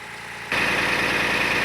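A Tata BS6 truck's diesel engine runs during DPF regeneration, a steady low rumble that jumps abruptly to a louder, fuller roar partway through and then holds there, heard up close.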